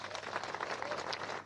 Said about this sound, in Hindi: इस भारत के नाम पर एक बार जोरदार तालियां।